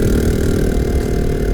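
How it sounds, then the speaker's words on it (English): Custom Janus motorcycle with a louder-than-stock exhaust, its leaking exhaust pipe missing a sensor bung, idles with a steady, loud, close engine rumble throughout, no voices present. "this bike probably sounds a little louder than a stock bike"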